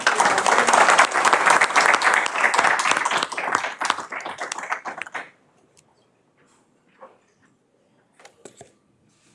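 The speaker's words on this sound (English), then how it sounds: "Another round of applause" Brisk round of applause from a small audience at a transportation committee meeting, dense clapping that thins and stops abruptly about halfway, leaving near silence with a few faint knocks.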